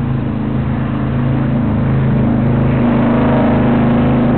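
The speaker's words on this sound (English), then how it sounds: "That noisy creature is called a motorcycle." A motorcycle engine drones steadily and loudly at close range, a continuous low rumble with no pauses and no voices.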